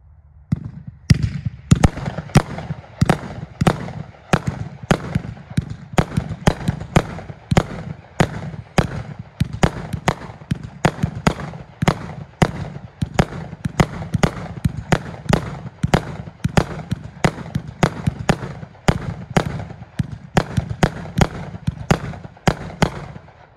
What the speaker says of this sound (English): It's our 36-shot multicolor peony. Lasts approximately 25 seconds.